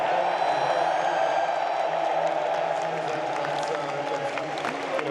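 Large arena crowd cheering at the Counter-Strike Austin Major esports event, a steady loud roar of voices that holds throughout with some chanting under it.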